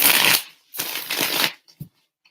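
Tarot cards shuffle close by in two quick riffling bursts, followed by a couple of soft taps as the deck settles, then near silence.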